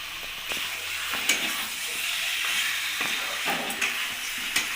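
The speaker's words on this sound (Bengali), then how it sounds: "চিকেনগুলো দিয়ে আবার মশলার সাথে ভালোভাবে কষিয়ে নেব।" Chicken, including free-range country chicken, being stir-fried with spices in a kadai, a steady close sizzle and hiss with repeated scraping clinks of a spatula against the pan.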